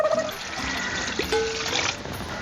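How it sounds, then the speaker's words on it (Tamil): Water poured into a pan while making kesari, a steady splashing trickle that runs on for a couple of seconds, fairly close and alone. "தேவையான அளவு தண்ணி ஊத்தியாச்சு."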